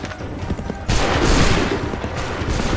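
Ragged volley of massed musket fire in a combat video game, scattered shots followed by a loud sustained burst of overlapping gunfire, close and dense.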